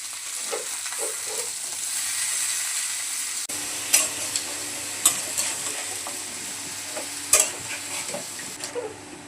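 Pumpkin, jackfruit seeds, eggplant, potato and teasel gourd frying in a village kitchen, a steady soft sizzle after the vegetables hit the oil, broken by several scraping stirs and clinks of a spoon.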